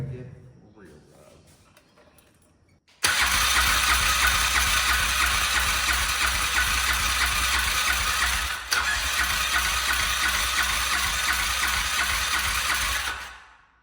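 Quad ATV engine running with no exhaust fitted, catching after a quiet start and then roaring loud and steady for about ten seconds with a brief dip before it cuts off.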